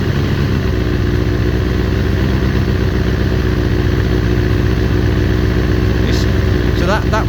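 Carbureted engine of a 2000 Kawasaki ZX6R motorcycle idling steadily with the choke off during carb balancing, a loud continuous low rumble with a faint whine near the end.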